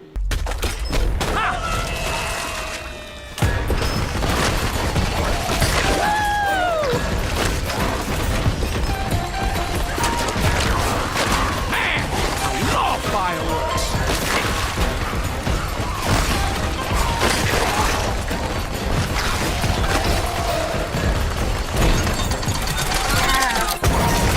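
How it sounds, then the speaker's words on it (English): A firework launcher weapon in the Shadow Warrior 3 video game fires and explodes in rapid, loud bursts of pops, booms and crackling blasts, sustained over gameplay noise after a brief drop near the start. "take its firework launcher directly from its spine and use it until it explodes"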